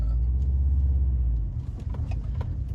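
A Subaru STI with a manual gearbox pulls away after the clutch comes out a little fast; a deep, steady engine rumble gives way to a rougher, bumpier drone with light rattles.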